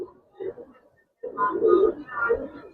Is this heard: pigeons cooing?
yes